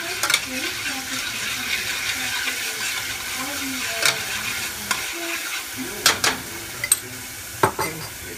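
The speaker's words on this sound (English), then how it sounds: "Then the next thing you're going to put is your garlic. Just let it cook there a little bit." Garlic fries in a pan with sofrito for yellow rice with pink beans, a soft steady sizzle up close, punctuated by scraping stirs and a few sharp utensil clinks toward the end.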